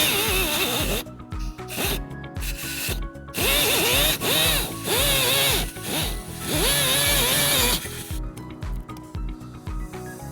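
Power tool sawing through the bumper of a 2019 Tesla Model S to fit a trailer hitch, loud close whining cuts in bursts with brief pauses between passes, no talking.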